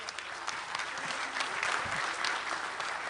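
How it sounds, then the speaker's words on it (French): Dense, steady applause from a crowd filling a hall during a ceremony where Congolese president Denis Sassou Nguesso hands over to Félix Tshisekedi, loud and continuous throughout with no voices over it. "avec un salve d'applaudissements dans la salle"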